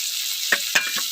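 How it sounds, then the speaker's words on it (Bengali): Tomato fries in a pan for a vegetarian soybean curry, a soft constant sizzle with two or three brief sharper stirring clicks, close and fairly quiet. "টমেটোটা একটু ভাজা হয়েছে, আমি এর মধ্যে দিয়ে দেবো"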